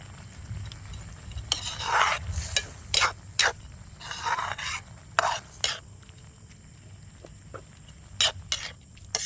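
Sotanghon noodles get stirred into a pot of sauteed mung beans and patola, with a quiet simmering bubble under repeated scraping and clattering strokes of a utensil against the pan, close and without talking.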